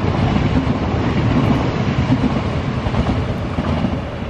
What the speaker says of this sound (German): So wie diese HLB jetzt fährt, die hat Ausfahrt in Richtung Darmstadt bekommen